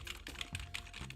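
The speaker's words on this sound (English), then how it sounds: "Do you like the typing noises?" Keys clatter quickly on a computer keyboard in a rapid, uneven patter of soft clicks, faint and close with no speech over it.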